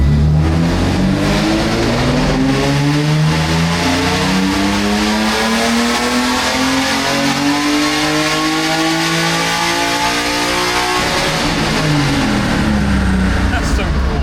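A BMW E36 with a naturally aspirated engine running lean revs hard on a dyno, a loud, continuous, rising engine roar that climbs steadily through the run before falling away near the end.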